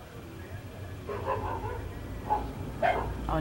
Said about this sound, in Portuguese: Olha a cachorrada.